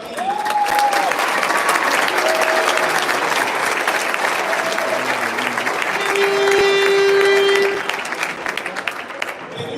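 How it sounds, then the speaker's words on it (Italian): Loud crowd applause for children at a youth tournament final, sustained clapping with some voices and cheering mixed in, swelling briefly before easing near the end. "Un altro applauso per i bambini."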